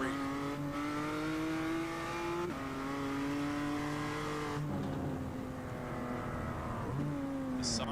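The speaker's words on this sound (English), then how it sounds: "The sights and sounds of Mount Panorama as Oscar, right on board with him" Race car engine lapping Mount Panorama in a sim racing game, revving hard through several upshifts with rising pitch sweeps and brief drops between gears, loud and continuous for eight seconds with no talk.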